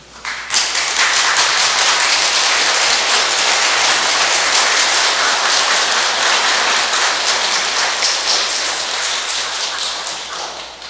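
Sustained, dense applause from a congregation at a Cheondogyo Seoul parish Sunday service, welcoming standing members on an anniversary, loud and steady for about ten seconds before tapering slightly.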